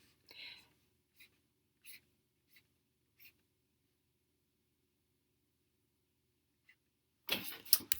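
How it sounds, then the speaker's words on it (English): A rectangular prism sketched by hand on paper: five short, quiet pen strokes spaced about a second apart, then near-silence, then a louder burst of rustling and clatter at the end. "So we're going to start by sketching a rectangular prism."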